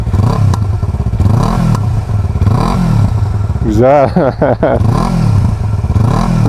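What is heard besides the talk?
motorcycle exhaust revving without muffler tube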